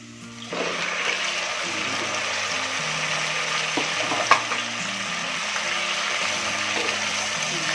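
Pork belly (liempo) dropping into a pan with sautéed onion and garlic sets off a loud, steady sizzle and frying hiss that continues for several seconds, with a brief clatter partway through.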